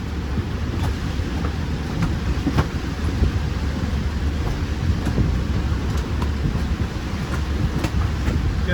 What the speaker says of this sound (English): See, it's just raining like crazy.